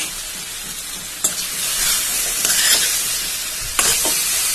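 Jackfruit pieces hit hot spiced oil and fry under stirring, with a continuous loud sizzle and two sharp clinks of the spoon against the pan.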